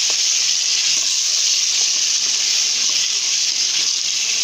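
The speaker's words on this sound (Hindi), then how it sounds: "अब इसे हम अच्छे से भून लेंगे" Masala sizzling steadily in hot oil while it is fried down for tendy gosht, a close, loud, continuous hiss with faint stirring clicks underneath and no voices.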